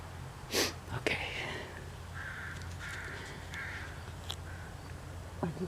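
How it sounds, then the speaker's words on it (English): Several crows caw in short harsh bursts at a moderate distance, spaced irregularly over a steady low background hum. "Okay, the crows are here."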